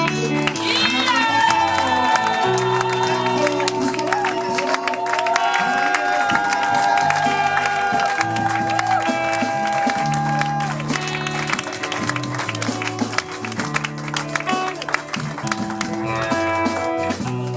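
A church congregation at a Paris seminar applauds and cheers, sustained clapping and crowd noise running the whole way through under loud music, dense and continuous.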